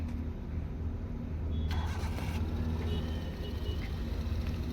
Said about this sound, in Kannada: ನೋಡಿ ಎಲ್ಲ ಫಿಟ್ಟಿಂಗ್ ಇತ್ತು, ಗಾಡಿ ಸ್ಟಾರ್ಟೂ ಆಯಿತು.